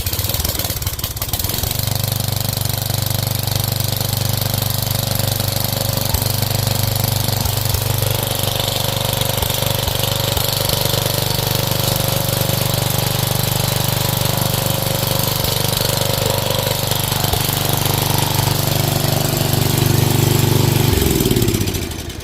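A Briggs & Stratton 12 HP flathead engine runs on a new carburetor, a loud, steady close-up drone with a rough, knocking pulse that holds unbroken for about twenty seconds before cutting off.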